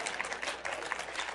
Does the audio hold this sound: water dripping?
no